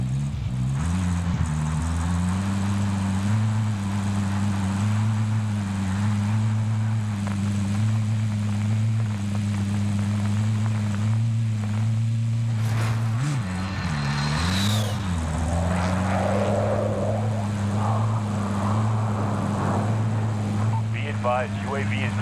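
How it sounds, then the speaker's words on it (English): A UAV recon drone in Call of Duty: Modern Warfare drones steadily overhead with a constant humming engine note that wavers and dips in pitch partway through, while voices talk over it. "UAV entering the AO."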